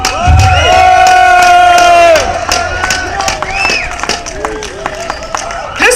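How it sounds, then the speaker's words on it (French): A large crowd at a public square celebration in Montreal cheers loudly, with sustained shouts and whoops over clapping, then the roar settles into scattered cheers and applause. "On l'applaudit!"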